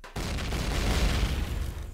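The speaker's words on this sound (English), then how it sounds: "I am going to set the explosive block to boom" A detonating explosive block in the space survival game Empyrion: Galactic Survival: a sudden loud, broadband boom that rolls on as a sustained rumbling blast for nearly two seconds.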